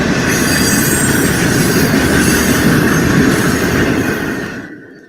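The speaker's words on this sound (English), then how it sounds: "So I've just been filming all these trains." A freight train rolls past a crossing, a loud, steady roar of wagons with rail squeal and wheel clatter that fades at the very end.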